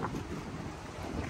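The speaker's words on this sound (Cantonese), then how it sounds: "聽下個海浪聲" Sea waves washing against the shore at Sai Kung, a steady broadband rush of surf mixed with wind buffeting the microphone, with no voices.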